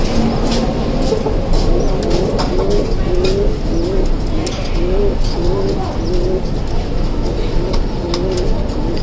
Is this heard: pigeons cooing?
yes